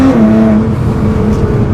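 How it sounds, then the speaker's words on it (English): A stage 3 Nissan GT-R R35 with full bolt-ons, making 600 wheel horsepower, pulls hard under acceleration, its engine drone loud, steady and close for the whole stretch, with no talk over it. "This car just rips up to some super high speeds and is insane to drive."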